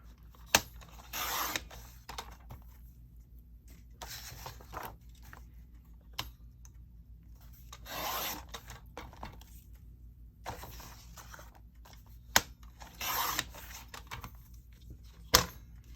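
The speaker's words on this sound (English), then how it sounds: "my trimmer, cut off all this white" A paper trimmer slices the white edge off a crochet and knitting journal cover in several short separate passes, each a brief close rasping swipe with sharp clicks between them, in a quiet room with no talking.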